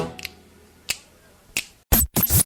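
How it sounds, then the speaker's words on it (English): A few crisp finger snaps ring out alone in a quiet space, sparse single snaps at first, then a couple of louder, closer bursts of snapping near the end. "Come on, everybody, and snap your fingers now."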